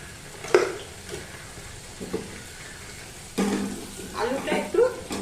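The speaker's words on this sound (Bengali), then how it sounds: "এই দেখো আলুগুলো একটু ভেজে নিই, তারপরে একটু আলুতে একটু নুন দিয়ে আলুটা একটু ভেজে নেব।" Potatoes fry with salt in a pan on a home stove, giving soft intermittent sizzling and stirring scrapes while someone talks over the cooking.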